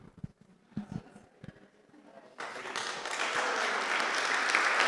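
An audience at a Bible course session breaks into applause after a few scattered claps, the clapping swelling to a loud, steady, sustained wash.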